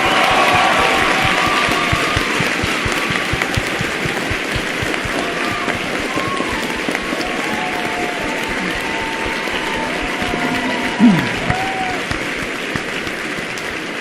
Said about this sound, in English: you guys should really give Matt a round of applause